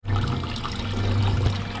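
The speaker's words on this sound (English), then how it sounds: "This is just fresh water that's being pumped around." Fresh water is pumped through the heat exchanger of a Westerbeke marine generator during flushing, making a steady rushing, gurgling flow over a low continuous pump hum, close and constant throughout.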